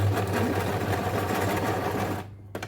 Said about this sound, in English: Start stitching from the side, the center part,